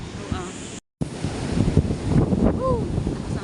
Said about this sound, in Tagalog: Ngayon, sobrang lakas ang hangin.